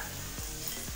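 Garlic hitting a pan of frying pork for a Kenyan-style wet fry, giving a steady, close sizzle with a couple of brief stirring scrapes, no voices.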